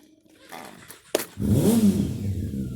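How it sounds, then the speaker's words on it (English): Motorcycles nearby rev, a low engine rising and holding a steady drone after a couple of faint clicks, climbing in pitch as it accelerates. "excuse the neighbors, they've got a bunch of motorcycles."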